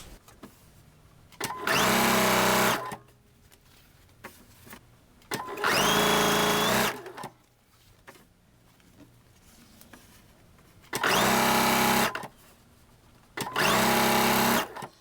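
A sewing machine stitches quilt pieces of solid fabric in four loud bursts of rapid, even running of about two seconds each, separated by quiet pauses.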